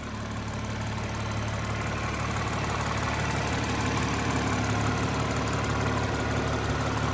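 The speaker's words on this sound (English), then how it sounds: "Rather impressed with these new Land Rover engines." A 2025 Land Rover Range Rover engine idles steadily at close range, a smooth, even low rumble with a constant mechanical hum and no revving, heard alone.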